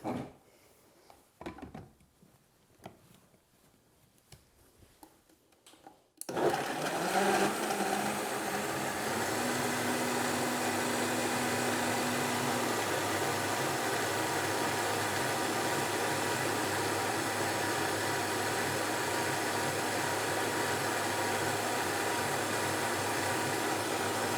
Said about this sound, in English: Also be careful when you're using a high-speed blender like this.